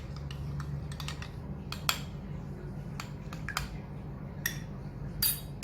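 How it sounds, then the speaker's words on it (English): Batter for Nutella bread mixed in a bowl: repeated sharp clinks and taps of a utensil against the bowl over a low steady background hum, close and irregular. "Now mix it well"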